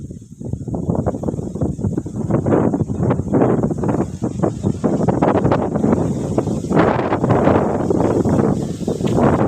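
Strong wind buffets the microphone in a continuous, loud roar with gusty rumbling surges during a rainstorm under dark clouds over wheat fields, no voices heard.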